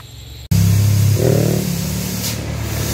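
Heavy vehicle engine revving while an overturned box truck (truk engkel) is towed upright at a roadside accident scene in Kedabuhan; a loud, steady low drone cuts in abruptly after a brief pause and holds throughout.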